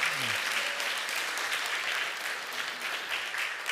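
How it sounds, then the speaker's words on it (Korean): A church congregation applauding during a Sunday worship service, a full, even roar of many hands clapping that holds steady from start to finish. "우리 큰 박수로 한번 격려해 주십시오."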